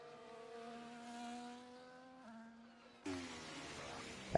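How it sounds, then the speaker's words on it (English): A Formula 1 car engine fires up in a racing video game set in Baku, a thin buzzing idle that shifts pitch, then a louder rasping rev bursts in near the end. "we've got an engine fired up"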